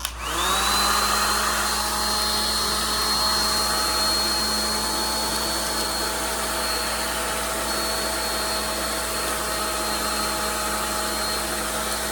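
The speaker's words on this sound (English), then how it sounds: "All you have to do is turn your dryer on the highest setting and start from the bottom." Hair dryer on its highest setting shrinking gift basket wrap, a loud, steady, unbroken whine and blowing roar that runs from start to finish with no pauses.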